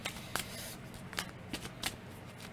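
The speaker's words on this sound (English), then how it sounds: "Let's one more good shuffle." Tarot cards are shuffled by hand close up, a steady papery riffle broken by several sharp snaps and taps, with no talking.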